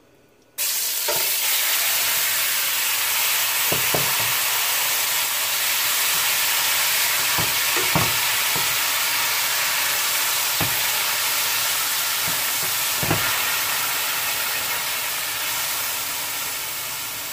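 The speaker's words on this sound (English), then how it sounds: "I've already had 2 tablespoons of oil in my frying pan. I'm gonna go ahead and add my meat." Beef sizzles loudly in hot oil in a frying pan, a steady crackling hiss that starts abruptly, with occasional scrapes and clinks of stirring.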